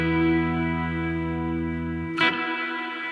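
A single guitar chord rings out through a Strymon Flint reverb pedal, sustaining evenly for about two seconds before a brief pick scrape cuts it, leaving a soft reverb tail alone.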